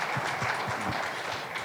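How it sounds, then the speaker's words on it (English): Brief burst of audience applause after a management consultant's presentation in Nairobi, moderately quiet, with a few distinct claps standing out from a softer wash of clapping. "Please give him a round of applause."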